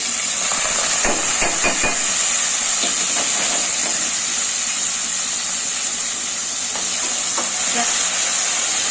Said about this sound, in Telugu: కొంచెం మెంతకూర అనేది బాగా వేయించుకోవాలండి మాడబెట్టుకోకుండా కొంచెం ఆకు అనేది కొంచెం రోస్ట్ అయ్యే వరకు వేయించుకోవాలి